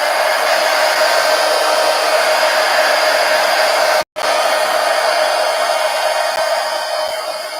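Hair dryer blowing on a napkin journal page in a traveler's notebook, a loud steady whoosh running throughout, cut off for a split second near the middle before resuming, with no talking.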